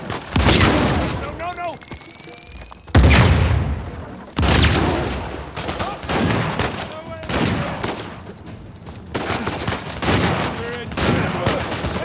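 Shotgun blasts in Uncharted 4, several loud booming shots spaced irregularly, with a lot of other gunfire and battle noise around them. Voices come in briefly between the shots.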